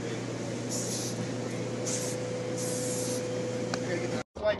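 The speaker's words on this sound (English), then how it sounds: "It's spray paint." Short hissing bursts of a spray paint can, three or four spurts separated by pauses, over a steady background hum.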